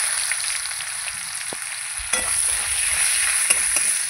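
Chopped onion sizzles steadily in a pan after the spices have been tempered, with a few sharp scrapes and clicks of stirring against the metal, close and clear with no talking.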